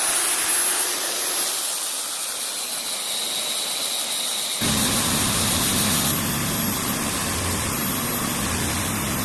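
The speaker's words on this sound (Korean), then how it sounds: "이제부터는 이제 그라인더 작업에 들어갈 거예요." A steady high-pitched whine and broad hiss of a grinder fills the clip, shifting to a rougher, fuller roar midway as it bites into resinous pine knot wood.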